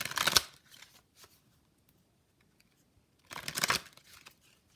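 Tarot cards being shuffled, two short crisp riffling bursts separated by a few seconds of near silence, close and fairly quiet.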